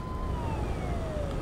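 A police patrol siren wails alone on the road near a 2020 Freightliner Cascadia truck, one steady falling tone that sounds moderately loud and fairly near.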